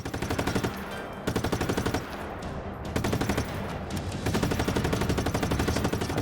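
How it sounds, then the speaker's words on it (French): Machine gun fire in the video game Just Cause 3, long rapid bursts of loud close shots with a couple of brief pauses, filling the whole stretch without speech. "cette mitrailleuse. Par contre, elle est toute pourrie."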